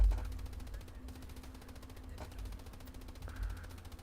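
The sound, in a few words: Stuart light tank ammunition cooking off in a video game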